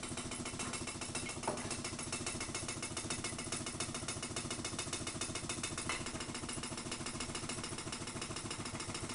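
A free-piston Ringbom Stirling engine runs steadily, giving a fast, even mechanical chugging buzz that stays at constant loudness throughout, with a couple of faint clicks and no speech.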